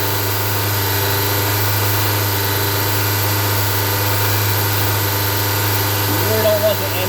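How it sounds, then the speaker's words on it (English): 2020 Honda CR-V direct-injection engine idling steadily during intake valve cleaning, a loud, constant low hum with even vibration, close up and unchanging, with a brief faint sound near the end. "You don't want the engine to bog down unless you know how to manage the engine."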